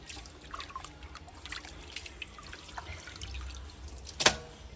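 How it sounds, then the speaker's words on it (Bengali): Raw chicken pieces washed under running water, a soft, steady trickle and splash close by, with a sharper clink or splash near the end. "প্রথমে আমি চিকেনটা ধুচ্ছি"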